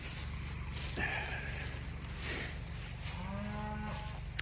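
Cattle on a dairy farm low and moo, one long drawn-out call rising near the end over a steady hum of barn noise, with a few shorter grunts earlier.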